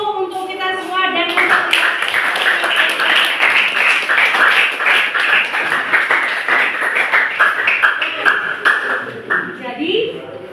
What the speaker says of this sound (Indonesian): Kasih aplaus dulu untuk kita semua